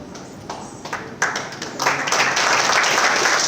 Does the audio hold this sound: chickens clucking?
no